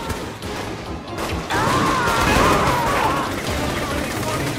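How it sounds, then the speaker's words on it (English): Automatic gunfire empties a full magazine in Saints Row The Third, a loud continuous burst of rapid shots mixed with crashing game noise and a voice speaking over it. "I just mag dumped an entire clip into that guy's back"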